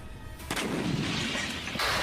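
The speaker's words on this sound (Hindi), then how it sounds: "एक एक धमाके से ही सेंटर तबाह हो गए" Explosions from a war in Ukraine, where strikes hit drone operation centres: a heavy booming blast erupts suddenly, followed by a loud rumbling roar and a second sharp onset near the end.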